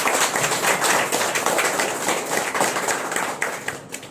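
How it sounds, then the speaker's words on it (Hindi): An audience claps loudly and steadily at a live event, dense applause sustained throughout with no speech over it. "हम चाहेंगे एक बार अपने लिए लहराते हुए जोरदार ताली बजाइए,"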